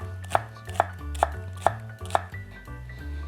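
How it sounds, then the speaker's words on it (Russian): A knife chops an onion into half rings on a board, five crisp evenly spaced knocks about half a second apart, close and clear, followed by a soft scrape. "Нарезаем его такими полукольцами."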